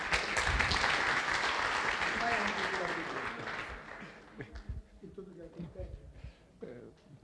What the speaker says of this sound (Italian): Facciamo un applauso così di inizio.